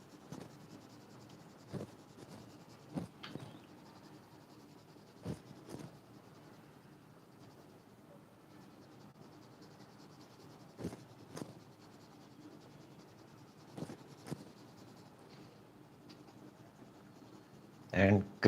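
Colored pencil blending color on drawing paper, heard as faint, soft scratchy strokes that come in short, scattered bursts over a quiet background.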